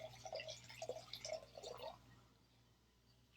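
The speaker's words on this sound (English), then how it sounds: "I got to pour my wine." Wine poured into a glass gives a soft, close trickle and glug in a few short bursts, then stops, over a faint steady hum in a quiet room.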